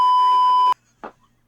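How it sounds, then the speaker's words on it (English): A single steady electronic beep sounds loudly for under a second and cuts off sharply, followed by a brief faint noise and quiet. "Beep your ass off."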